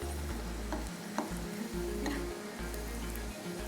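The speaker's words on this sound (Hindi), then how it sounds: "चलिए अब इस ऑयल के अंदर हमने इसको करना है फ्राई" Food frying in hot oil, a steady close sizzle with faint ticks and stirring clatter on top, continuous throughout with no talk.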